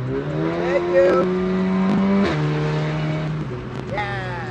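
A Ferrari's engine in a video game drones and revs with rising and falling pitch, shifting through gears, while players talk over it.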